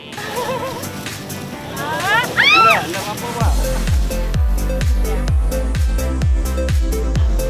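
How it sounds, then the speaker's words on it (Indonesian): Voices and calls ring out at first, then a small longtail ketinting boat motor on the Mahakam river chugs steadily in rapid, regular pulses across the water. "para petani membawa hasil merumput ke kandang dengan perahu ketinting"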